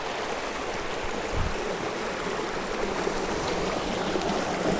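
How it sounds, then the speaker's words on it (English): A backyard brook in the woods flows over small waterfalls, a steady, even rushing of water heard close up with no voices. "They're not huge Niagara Falls waterfalls, but they're just enough to make some pretty nice sound"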